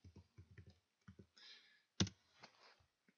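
Fingers tap out a short link on a computer keyboard, a few quick bursts of close, crisp key clicks with brief pauses and one louder keystroke, no speech.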